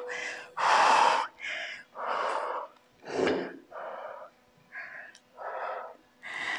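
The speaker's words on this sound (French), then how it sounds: "On souffle bien, on reprend bien sa respiration." Heavy, deliberate breathing during a beginner HIIT home workout: a series of loud, close inhales and exhales in an uneven rhythm, with gasping breaths between pauses.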